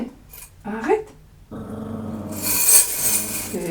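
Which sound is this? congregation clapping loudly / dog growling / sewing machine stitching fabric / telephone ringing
dog growling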